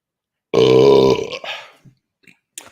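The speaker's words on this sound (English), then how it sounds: "So I can force a burp." A single loud, deliberately forced burp rumbles for about half a second, then tails off into small throat sounds and breaths.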